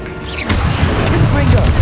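A fiery spell explosion in the video game Hogwarts Legacy: a loud burst lands about halfway through and a crackling roar sustains to the end, with a voice heard briefly.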